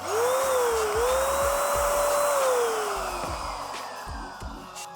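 A Procraft PSE20 cordless paint sprayer runs close by with a loud, steady motor whine that rises in pitch, holds, then slowly winds down, with faint ticking beneath it.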